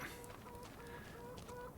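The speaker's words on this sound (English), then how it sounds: "Chickens are still looking okay." Chickens clucking in the Farming Simulator 25 farming game, a few short, repeated clucks at a moderate level in a brief stretch with no talk.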